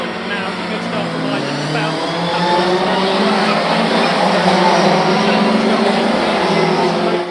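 A pack of Ginetta Junior race cars launches off the grid at Silverstone, their engines swelling into a loud, sustained roar as they get away, under a commentator's voice.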